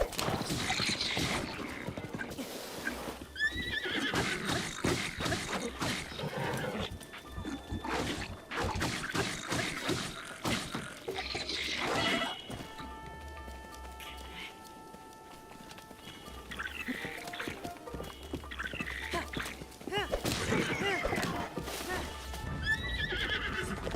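Horses whinny repeatedly over the steady clip-clop of hooves in Breath of the Wild, with electronic game sounds and occasional tones in the background.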